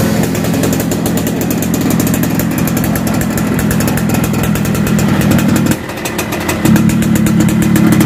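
A 1994 Yamaha RX-King two-stroke motorcycle with a modified exhaust blares loud and close, holding a raspy, crackling drone that dips briefly near the end before surging back, with no talk.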